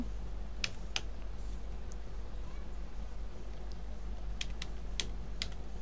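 Typing table headings into MS Word on a computer keyboard, soft scattered key clicks over a steady background hum, with a few sharper taps.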